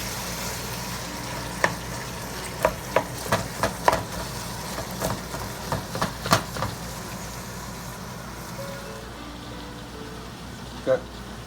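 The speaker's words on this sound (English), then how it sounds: "Gonna brown that up and cook the onions down a little bit." Ground meat and onions browning in a pot for a big batch of chili, a steady low sizzle under a series of sharp clinks and scrapes of a utensil stirring, with a voice talking over parts of it.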